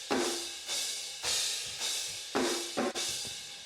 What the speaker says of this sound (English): what you hear is the snare smashing into the compressor and